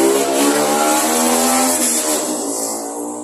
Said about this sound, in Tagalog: Sorry naman sa noise. Grabe naman ang motor na yan.